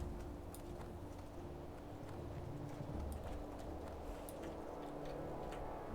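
Horse hooves clop in World of Warcraft, a quiet, steady rhythmic beat of galloping steps running throughout under faint background game sound.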